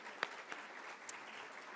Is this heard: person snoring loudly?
no